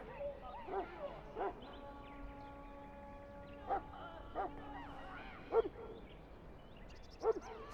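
A Mabari war hound from the video game Dragon Age: Origins barks and yips in short, separated bursts over a quiet game soundtrack with sustained tones; the barks are moderately loud and irregularly spaced.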